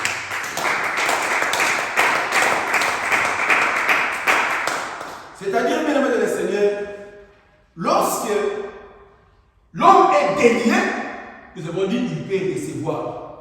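A church congregation claps in praise to the Lord, a steady rhythmic run of claps for about five seconds, then a preacher speaks in loud bursts.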